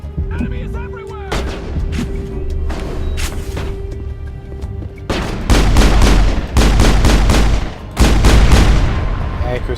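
Pistol gunfire in the Mass Effect video game, loud repeated shots in clustered bursts that grow heavier and denser in the second half, booming over game background noise.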